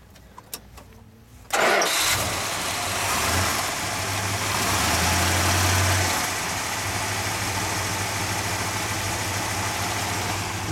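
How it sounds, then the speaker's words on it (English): A 1970 Dodge Super Bee with a 440 Six Pack V8 and four-speed cranks after a few clicks, then fires up loudly and settles into a deep, steady, smooth idle with a brief rev. "let's start her up"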